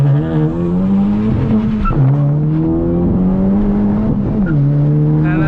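An E85-tuned 10th-generation Honda Civic Si launching from 0 to 60, its engine loud and close from inside the cabin, revving up through a rising pitch and dropping briefly at each of two quick gear shifts.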